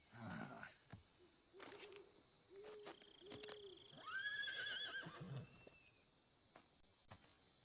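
A horse neighs in the Metal Gear Solid 3 game world, a rising whinny with breathy snorts before it, against low ambient noise and scattered thumps.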